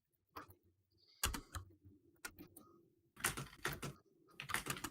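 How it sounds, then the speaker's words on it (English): Bursts of clicky computer keyboard typing come in irregular clusters separated by short pauses, close to the microphone and fairly quiet, with no talking. "Sorry for anyone who hears my keyboard."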